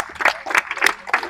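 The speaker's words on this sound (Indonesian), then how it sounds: "Oke, kasih tepuk tangan dulu." A small group claps for a winning team after a game, a few loose bursts of handclaps in an uneven rhythm, close and fairly loud over about a second and a half.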